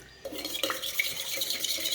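Water, salt, cooking soda and oil are stirred together in a bowl while making Kathiyawadi vanela gathiya dough, heard as a close, steady swishing and scraping that starts abruptly and runs on without talking.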